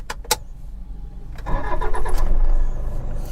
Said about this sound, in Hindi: सबसे पहले गाड़ी चालू कर लेते हैं